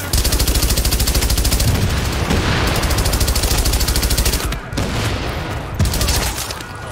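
Sustained rapid automatic gunfire rattles continuously in The Division, loud and dense with steady repeating shots, briefly pausing before resuming in bursts amid the chaotic firefight.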